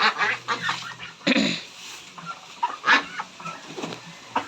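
Peking ducks in a pen, a flurry of nasal honks and quacks from several birds at once, close and irregular, overlapping in busy bursts.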